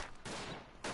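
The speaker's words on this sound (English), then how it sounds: "That's my artillery I can hear there." World War I artillery fire in the game Verdun, a loud, dense roar of booming blasts that swells and surges throughout a single second, with no talking.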